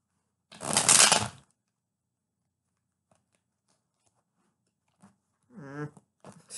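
A brief burst of tarot cards being shuffled, a quick riffling rustle, followed by near silence and a few faint handling noises.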